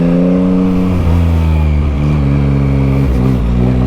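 A stock-exhaust 2022 Yamaha MT-09 motorcycle engine runs loud and close, its note rising and dipping through several throttle blips and revs.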